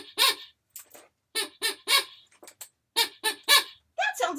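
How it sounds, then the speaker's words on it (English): A funny toy horn honks in short, nasal, duck-like squawks. The bursts come close and loud in irregular clusters with no talking. "Here's another funny horn."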